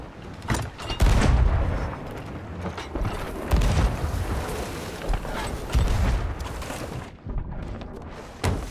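Cannon fire in the pirate video game Sea of Thieves booms several times amid a busy, continuous wash of ship creaks, water and clattering game noise.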